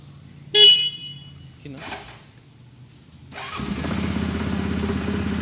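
A Xwolf 700 motorcycle engine cranks and fires up, settling into a steady, loud idle rumble after a couple of brief clicks and a short burst of noise.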